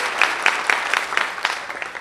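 An audience at a local ward committee gathering claps briskly, with rhythmic clusters of hand claps that sound fairly close and steady over a couple of seconds.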